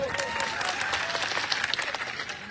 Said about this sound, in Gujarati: અહીંયા જેટલા પણ પોલીસ અધિકારીઓ છે એમના માટે જોરદાર તાળીઓ પાડી લો